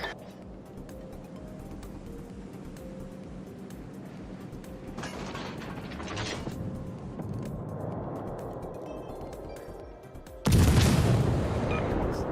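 Heavy booming naval gunfire and engine rumble in World of Warships Legends as an enemy battleship fires HE shells, a dense roar building to a loud, abrupt blast near the end.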